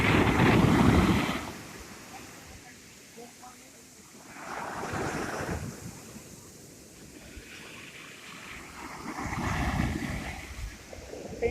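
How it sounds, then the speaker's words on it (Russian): Sea waves breaking on Cleopatra beach, big swells rushing and crashing in three long surges with windy roar between them, no talk over the surf. "Ну вот опять волны."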